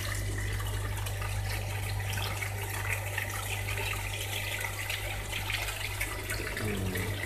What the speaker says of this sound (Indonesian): Oke, deras sekali air